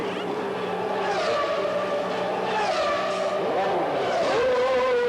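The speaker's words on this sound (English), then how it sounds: "Here's Ayrton Senna's tyre stop, a record 5 seconds stationary" A Formula 1 car makes a pit stop in 1991, with Ayrton Senna's car stationary for a quick tyre change. Several engines whine and howl in steady layers, loud and continuous, with a rising and falling roar as cars pass.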